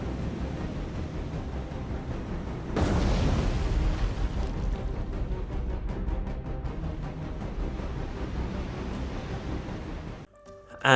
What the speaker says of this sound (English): after that we did only hit the destroyer with the one torpedo there